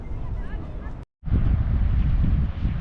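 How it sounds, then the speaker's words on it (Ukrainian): Steady cool wind on the North Sea coast of Belgium buffets the microphone in a loud, continuous roar, broken only by a short moment of silence. "Вітер прохолодний."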